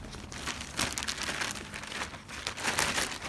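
Plastic crinkles and rustles up close in irregular bursts, as if a bag is being handled and squeezed, with no talking.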